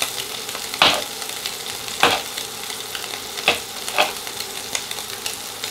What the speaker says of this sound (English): cook up some mushrooms.